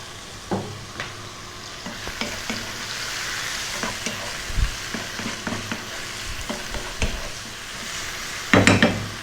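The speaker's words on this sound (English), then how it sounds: "we're going to just fry this around for about 4 minutes on and above medium heat" Food frying in a pan over medium heat while being stirred, a continuous sizzle broken by scrapes and knocks of a utensil against the pan, with a louder clatter of stirring near the end and no talk.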